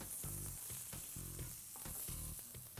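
Fish frying skin-side down in a pan, a steady close sizzle with crackling spatter and soft stirring scrapes throughout.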